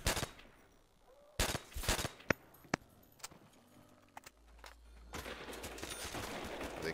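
Scattered gunshots hit zombies on a tight prison-themed Call of Duty custom zombies map, sharp isolated cracks at irregular intervals with quieter game ambience and movement between them, closing in a louder, denser stretch.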